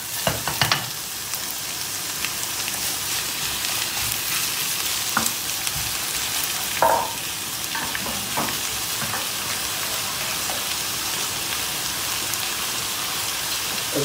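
Peppers sizzle and fry steadily in a pan with caramelized onions and carrots, a dense continuous hiss broken by a few scraping stirs and tosses, with no talk.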